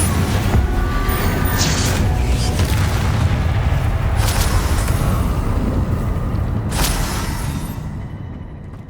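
A fire spell is cast in the video game Hogwarts Legacy, giving a loud, continuous roaring, booming blast with rushing crackle. It stays steady for most of the clip before fading out near the end.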